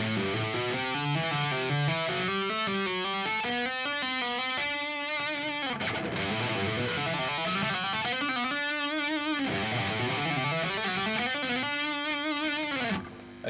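Distorted electric guitar plays fast, smooth legato runs that climb and descend in repeating note patterns, loud and continuous for about thirteen seconds.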